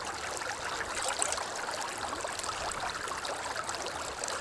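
Fresh water flowing in the Sons of the Forest video game, a steady soft babbling stream sound running evenly and alone.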